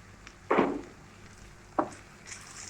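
Sliced onions with salt, pepper powder and turmeric are stirred in oil in a pan for a green-gram samosa filling: two short, sharp scraping strokes over a faint background sizzle.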